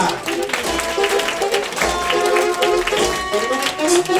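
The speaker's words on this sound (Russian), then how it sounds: "Аплодисменты всем знатокам формулы успеха." An audience at a teachers' competition at a children's creativity palace in Anadyr applauds, with continuous clapping under music and a voice speaking throughout.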